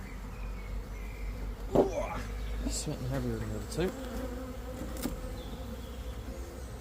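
A swarm of honeybees that has settled in stored hive equipment by a fence hums in a steady, close drone, while someone speaks briefly over the buzzing.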